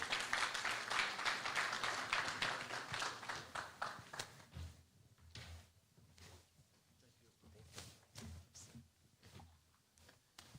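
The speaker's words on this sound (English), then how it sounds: "Let's give him a round of applause." An outdoor heritage-site ceremony audience applauds, a dense burst of clapping that thins into scattered, fading claps, with some talk in the crowd.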